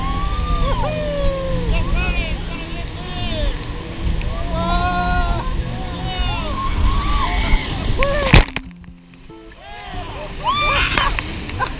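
A raft crashes through the churning whitewater of Hermit Rapids in the Grand Canyon, loud roaring and sloshing water with splashes throughout, voices and shouts mixed in, a brief sharp dropout near the end before the rushing resumes.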